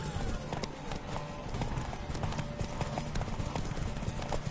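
Hooves of Geralt's horse clip-clop at a steady gallop in The Witcher 3, continuous and fairly close under game music and ambience, with brief voices calling out over the riding.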